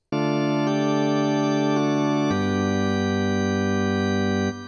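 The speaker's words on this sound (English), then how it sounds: "The resulting scale is known as quarter comma meantone" A synthesized harmonic scale tuned in quarter-comma meantone, steady sustained tones stepping through pitch changes, each note held and joined to the next, loud and clear with no voices.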